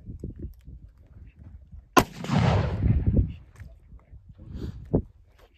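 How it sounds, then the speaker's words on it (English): A Colt Walker revolver fires one 45 Colt load of 40 grains of 2F powder behind a 250-grain bullet, giving a single sharp, loud blast with a rolling outdoor echo, amid faint talk and movement before and after. "So this is 45 Colt with 40 grains of 2F and a 250 grain bullet."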